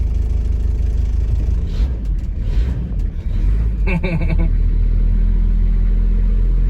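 A Toyota Land Cruiser HZJ75 with a diesel engine idles in a steady, loud, low rumble heard close up, with brief clattering and a short rise near the middle.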